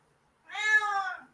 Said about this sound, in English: And there's my cat. She's saying hi.